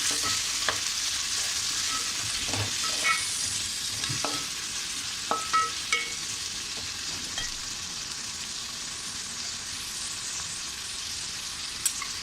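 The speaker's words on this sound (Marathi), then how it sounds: "थोडंसं परतून घेऊया." Chicken biryani masala with tomatoes sautéing in a pan over medium heat, a steady sizzle and fry hiss throughout with occasional soft stirring scrapes and clicks, close and continuous with no talking.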